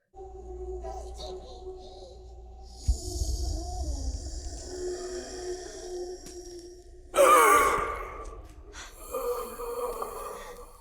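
Characters in an episode of The Last of Us, second season, breathe heavily, with groaning, gasping exhalations rising and falling over a low rumbling backdrop and a sharp, louder burst near the end.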